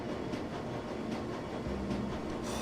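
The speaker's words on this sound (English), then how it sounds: "The train is speeding towards the Crucible station." A train in the Shadowrun: Dragonfall video game speeds toward Crucible station, giving a steady, close rumbling rail drone with faint rhythmic clatter throughout.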